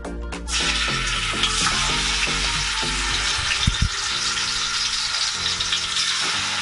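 Mutton pieces going into well-heated oil for Hyderabadi biryani set off a loud, sustained close sizzle and spatter that carries steadily through to the end.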